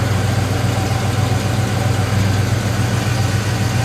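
Car engine idling with a divorced automatic choke, a steady close low rumble with a constant hum and even vibration, loud and running alone without interruption.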